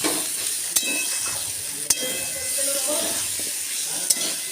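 Curry masala being sautéed and stirred in a pan during a home lunch cook, a steady close sizzle with sharp scraping clacks of a spatula at intervals and faint background voices.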